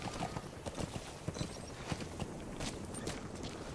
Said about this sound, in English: That's a one strong horse.